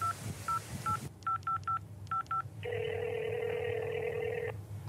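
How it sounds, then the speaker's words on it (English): Telephone dialing: a rapid series of loud DTMF keypad tones in short clusters, then a longer sustained ringback tone, all over a low background hum. "Dialing it up,"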